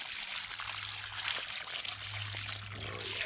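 River water is poured out in a steady, fairly quiet trickling stream, a continuous splashing pour outdoors with a low hum underneath.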